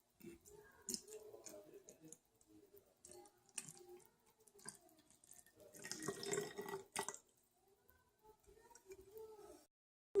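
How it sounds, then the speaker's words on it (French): Chilled green tea pours into a container in a quiet room, a light trickling stream in short irregular bursts with faint clinks, close and soft. "on va pouvoir se verser notre 100 ml de thé vert"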